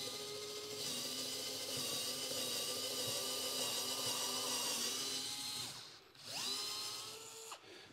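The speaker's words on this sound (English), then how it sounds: "we're about to find out if it can drive an 1/8-inch drill bit through a piece of 2x4" Dewalt DCF682N1 cordless screwdriver spinning an 1/8-inch drill bit into the side of a 2x4, a steady, close whine lasting about six seconds before spinning down, then two brief bursts of the motor.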